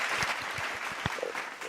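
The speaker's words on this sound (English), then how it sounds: "that clap was really good" A few scattered claps ring out, spaced and moderately close, in a quiet room during a sports talk show, with low background noise and no clear speech.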